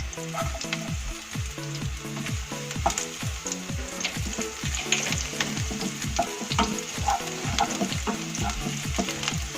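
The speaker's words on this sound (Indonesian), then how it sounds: "Langsung saja kita tumis bawangnya. Juga kita masukkan bawang putihnya." Shallots and garlic sautéing in a pan for a corn and oyster sauce dish, a steady close sizzle with a regular rhythmic scrape of stirring throughout.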